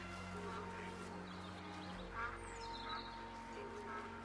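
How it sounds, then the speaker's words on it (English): A few faint, scattered duck quacks sound over a steady low hum, spaced a second or so apart. "Those are ducks."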